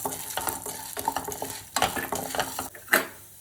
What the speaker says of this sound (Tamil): இதுலேயே இந்த கடலைப்பருப்பையும் நம்ம போட்டுடலாம், போட்டு வறுக்கிறேன்